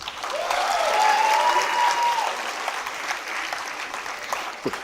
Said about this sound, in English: Come on, guys, clap.